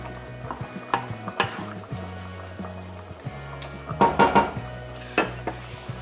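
A spoon stirring sauce in a skillet, with irregular scraping and clinking knocks against the pan over a low simmering background, louder clatters near the end.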